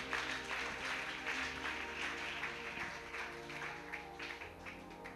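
Church congregation clapping for Jesus during a worship service, a dense steady wash of applause lasting throughout with sustained tones underneath.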